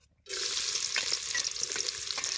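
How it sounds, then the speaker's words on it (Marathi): Sudden loud sizzle as finely chopped onion hits hot oil for chicken rassa, then continuous crackling frying with a few stirring clicks, close up. "ते बारीक चिरलेला कांदा आहे तेला टाकायचा"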